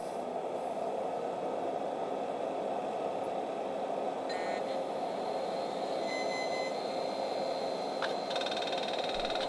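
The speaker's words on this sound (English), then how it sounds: "there we have the sweet sounds of a 90s PC booting." A 1990s desktop PC powering up: a quiet, steady whirring hum of fans and spinning drive, with faint high electronic whines and a few brief ticks appearing partway through.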